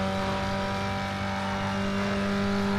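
A race car engine held at full throttle in the video game Need for Speed Underground 2, a loud steady droning whine with strong sustained tones for a few seconds, no voices.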